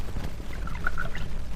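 Water pours into a glass at a formal table, a short gurgling trickle with rising bubbly tones, fairly close, over a low background rumble and without speech.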